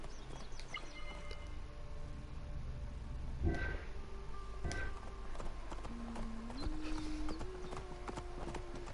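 Horses clip-clop along a street in ancient Alexandria in the video game Assassin's Creed Origins, hooves tapping at a moderate distance over a soft ambient city bed with occasional bird chirps and a faint whinny.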